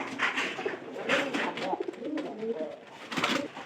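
Pigeons coo softly in a repeated low rhythm of throaty calls, several birds close by against a quiet background, with a few light rustles.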